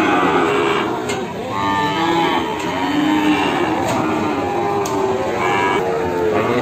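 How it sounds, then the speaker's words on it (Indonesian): Cattle, including young male calves of Simmental and Limousin breeds, low and moo repeatedly at a busy livestock market in Kebumen, the calls rising over constant crowd and engine hum. "coba dilihat sama salah satu pembeli yang tertarik dengan sapi-sapi dari Mas Fajar"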